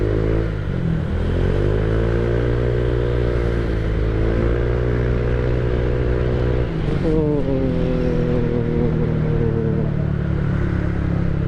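A motorcycle fitted with an aftermarket exhaust revs close by, its engine note climbing and falling in several throttle blips with a throaty, rumbling drone between them.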